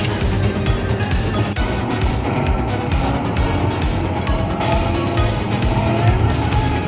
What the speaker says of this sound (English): I love the arcade racing games.